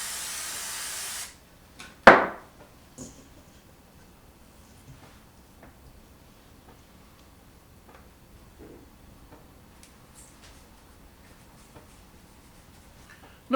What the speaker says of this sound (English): I'll add more spray to it.